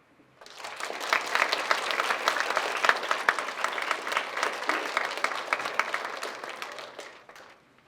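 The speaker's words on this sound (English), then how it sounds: "We'd like to have one more big round of applause for all of our presenters tonight." Sustained audience applause after student speeches at a college speech showcase, a dense wash of many hands clapping that swells quickly, holds steady for several seconds, then fades out alone.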